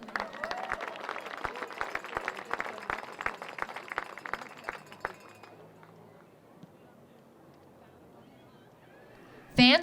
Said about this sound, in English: Fans, one more round of applause for Chapman Athletics 2019 Hall of Fame inductees